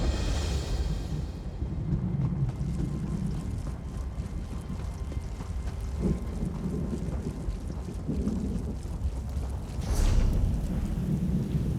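A thunderstorm rages in the Stonefalls zone of Elder Scrolls Online, with steady rain and wind under rolling thunder and a louder crack near the end.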